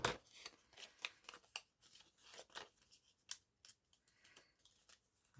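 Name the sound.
cutting with a pair of scissors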